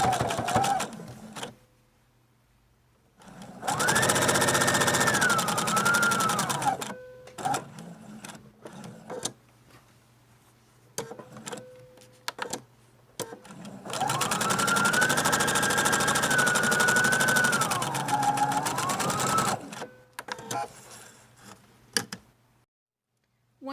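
A sewing machine stitching around a fabric zipper pouch, running in two long whirring bursts with a rising and falling motor pitch, separated by quiet pauses and short stop-start stitches, close and with no talking.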